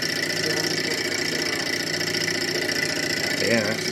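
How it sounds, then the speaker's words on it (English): A small Stirling engine on a counter, driven by a hot side and a cool side, runs with a steady mechanical hum and rattling vibration. The sound is continuous and close, with a brief surge near the end. "It's a fascinating concept, the whole Stirling engine thing"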